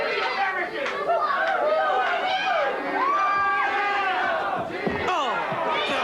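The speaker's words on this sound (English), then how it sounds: "Hear that? Listen to those fans. All for Tina Ferrari." A wrestling crowd cheers for Tina Ferrari in a busy arena, a dense wash of many voices shouting and chattering loudly all the way through, with individual shouts rising above the roar.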